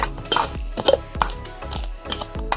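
A pinch of salt being stirred into rice flour in a bowl, with a run of light, rhythmic clinks and scrapes of the utensil against the bowl, fairly close and fairly soft.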